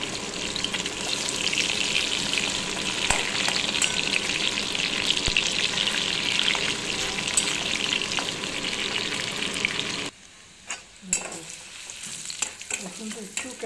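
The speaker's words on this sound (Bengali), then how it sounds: "চিলি চিকেন, এই যে চিকেন পিসগুলো ফ্রাই করছি" Chicken pieces for chilli chicken fry in a pan with a loud, steady sizzle and crackle for about ten seconds, then the frying cuts out, leaving quieter scattered clinks and shuffling.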